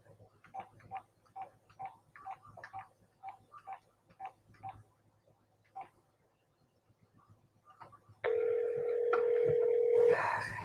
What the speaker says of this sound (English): I got dial tone.